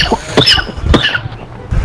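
Several sharp coughs burst out in a quick cluster, then another pair about a second later, heard over a game-chat or headset line during a Call of Duty match, with a faint voice-like tone mixed in.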